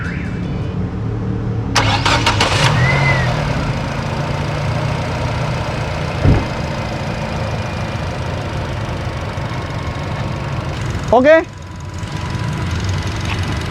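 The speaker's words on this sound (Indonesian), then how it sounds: "Dan sekarang kita hidupin aja mesinnya." A former-taxi Nissan Latio sedan with well over 100,000 km cranks with a short burst of rattling noise, then settles into a steady, smooth, close low idle hum that runs the whole time, with a few brief knocks and a single short spoken word.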